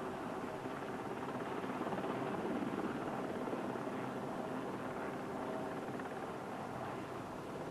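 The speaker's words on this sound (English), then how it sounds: "The helicopters disappeared into the black cloud, trying to pull men from the waters." Rescue helicopters hover over water near a burning ship during a wartime attack at Bluff Cove in the Falklands, a steady, loud rotor roar with broadband engine noise holding throughout.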